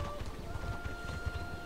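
Horse hooves clip-clop steadily in a Mortal Online game scene, a rider moving past on horseback, the footfalls fairly quiet and rhythmic beneath a low game ambience and a faint voice.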